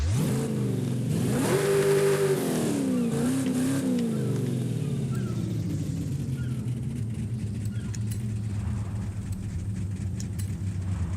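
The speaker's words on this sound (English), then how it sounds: "I'm gonna hit the gas." A 1970 Chevrolet Chevelle SS 454 V8 engine roars and revs up, climbing in pitch then settling into a loud, rumbling idle, close by.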